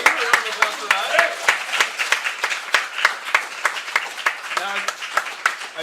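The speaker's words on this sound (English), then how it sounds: "Can we get a round of applause for that?" A small audience gives a round of applause at a live interview event, sharp individual claps in a loose, steady rhythm, close and distinct throughout.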